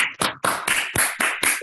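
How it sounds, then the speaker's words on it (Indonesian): Audience applause at an Indonesian academic talk show, a dense continuous clapping that swells in several waves over under two seconds, close and fairly loud with no talking. "Tepuk tangan dong teman-teman, luar biasa ya."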